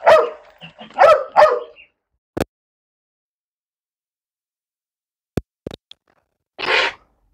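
A newly arrived Malinois or German Shepherd gives a few short, close barks and whines in quick succession, then falls silent, with a couple of faint clicks and a last brief whimpering yelp.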